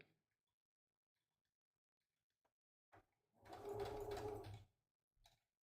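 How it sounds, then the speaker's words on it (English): A sewing machine runs in one short burst of about a second while backstitching a drawstring project bag, preceded and followed by faint clicks and handling noises in an otherwise quiet room. "backstitch at the end"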